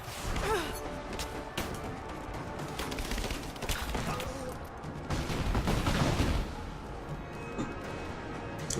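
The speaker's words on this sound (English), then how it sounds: "I'm just using grenades." Grenade blasts in Rise of the Tomb Raider, fought through the ruins of Kitezh: booming bursts go off in irregular succession amid crumbling debris, with the heaviest eruption a little past the middle, fairly loud and close.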